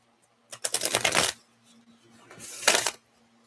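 Two bursts of tarot card shuffling, a longer riffle followed by a shorter one after a brief pause, close and fairly loud with no talking.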